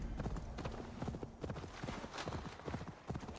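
Horse hooves clip-clop in a steady, quick rhythm as a mount gallops through a town in Assassin's Creed Valhalla, loud and close throughout.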